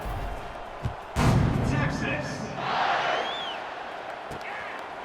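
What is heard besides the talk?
stadium crowd buzzing after a Texas touchdown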